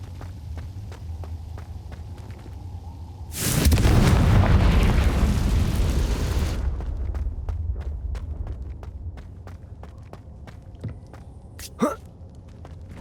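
A loud blast from the Confringo fire spell in Hogwarts Legacy on Nintendo Switch, a sustained roaring burst lasting about three seconds among quiet footsteps and small ticks, followed by a sharp pop.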